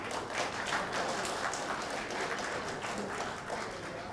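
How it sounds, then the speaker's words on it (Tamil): Sustained audience applause fills a crowded hall at a celebration event, dense and steady throughout with no break, loud and close. "இதுக்காக கை தட்டினாலும் தப்பு."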